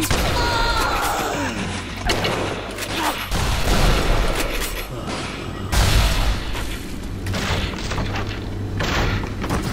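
Explosions boom repeatedly in a steampunk first-person shooter game, loud dense blasts and crashes over a low rumble, with heavy thuds recurring across the stretch and no talk.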